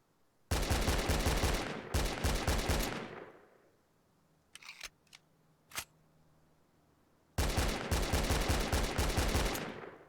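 Rapid bursts of SKS rifle fire in a video game, two loud sustained volleys, then a pause with a few metallic reload clicks before another long burst of shots.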